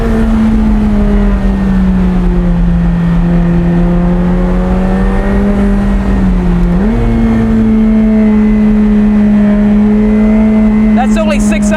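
A McLaren 765LT's engine drones loudly from inside the cabin, holding a steady pitch, then dipping briefly before the revs climb again, with voices talking over it.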